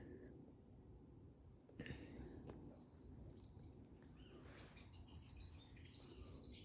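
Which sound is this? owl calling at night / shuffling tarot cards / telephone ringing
owl calling at night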